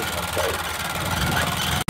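A motorbike engine while riding, a steady close rumble with wind noise that runs throughout and then cuts off abruptly near the end.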